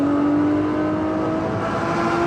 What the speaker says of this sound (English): revving this engine out all the way to 8K